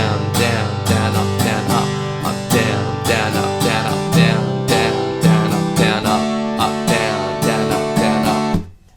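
Steady down-and-up strumming on an acoustic guitar through the verse chords of a song, bright and close, each stroke crisp in an even rhythm, ending with a fading last strum.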